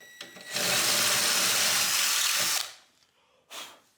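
A power drill enlarges an off-center hole in a part of a Longer B1 30 watt laser engraver, one loud continuous whir for about two seconds that winds down, then a short second burst.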